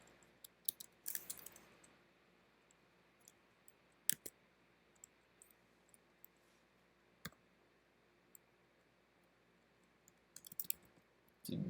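Computer keyboard typing while entering element paths for web scraping code, heard as sparse, faint clicks and taps scattered irregularly over a quiet background, with a few louder clustered keystrokes.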